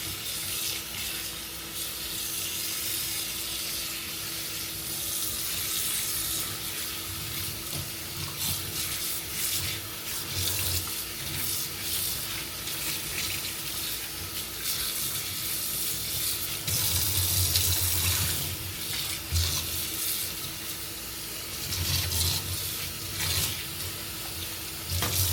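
A wig is rinsed under a running tap, with a continuous strong water hiss and splashing that shifts as the hair is moved through the stream, close and with no talking.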